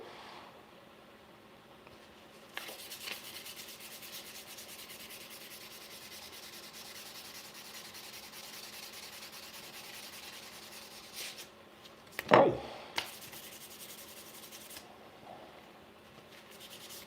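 Wooden handles being sanded by hand, giving a steady soft rasping hiss close up with a sharp louder scrape or knock midway and no talking.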